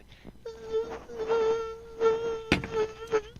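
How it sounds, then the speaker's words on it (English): Mosquitoes buzz close by in a steady, whining drone that holds for most of the three seconds and swells and fades as they move, with a sharp knock near the end. "you can literally hear the mosquitoes buzzing around your ear"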